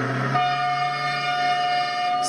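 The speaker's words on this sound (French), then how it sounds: "C'est le ralliement, un coup de klaxon familier." A mobile baker's van sounds its horn in a Corsican village, one loud sustained tonal blast held for about two seconds, close and clear with no talking.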